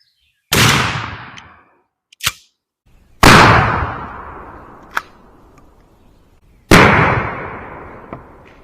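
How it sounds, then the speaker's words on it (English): Three loud shotgun blasts firing Federal steel BB shotshells at a target, each a sharp boom with a ringing decay, spaced about three seconds apart, each followed by a fainter sharp crack. "let's shoot these Federal Steel BBs and see how they compare to the lead."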